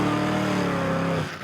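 A nitro 4x4 truck racing at the Suzuki Extreme 4x4 Challenge, its engine holding a loud, steady high-revving drone with rising harmonics that abruptly cuts off near the end.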